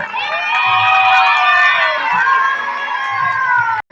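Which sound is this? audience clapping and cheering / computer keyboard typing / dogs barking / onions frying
audience clapping and cheering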